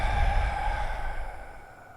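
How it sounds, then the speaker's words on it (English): A long, relaxed exhale during a seated yoga stretch, breathy and close, fading gradually over about two seconds with no talking. "Nice inhale and exhale"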